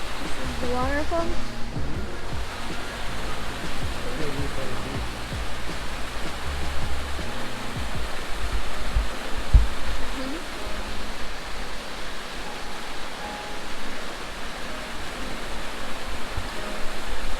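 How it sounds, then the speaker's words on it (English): A waterfall at Sea Level in Death Valley makes a steady, broad rushing hiss of falling water that runs the whole time, with people talking briefly at the start. "We just made it to the waterfall."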